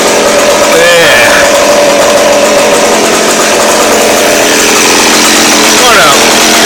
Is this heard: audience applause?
no